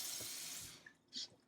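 Tap water running into a sink while a spatula is rinsed clean after cooking an egg sandwich, a bright splashing rush for under a second that stops, followed by a faint clink and drip.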